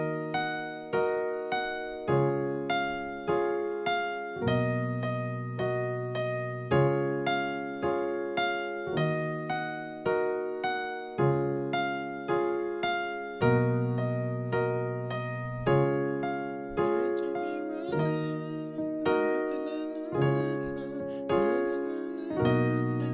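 Solo piano plays a repeating chord-based pattern of a song, steady sustained chords with a melodic line on top, close and clear throughout with no voices.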